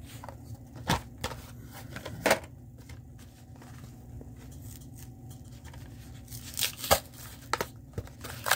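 Hot Wheels car blister packages torn open by hand, sharp crackling plastic-and-card rips arriving in a few bursts, close and fairly loud, with quieter rustling between them.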